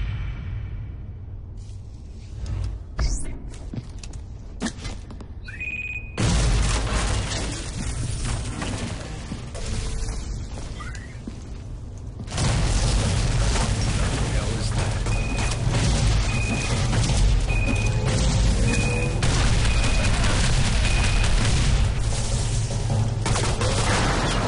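Grenades go off in the video game Shadow Complex Remastered as a dense, roaring barrage of booms and crackling blasts. The noise stays loud and continuous throughout and surges even heavier about halfway through.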